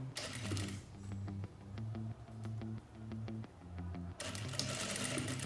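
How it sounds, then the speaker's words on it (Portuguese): A sewing machine stitching an invisible zipper onto fabric, running in several short, steady bursts of rhythmic mechanical thumping with brief stops between, close and fairly quiet. "arremato e começo a costurar"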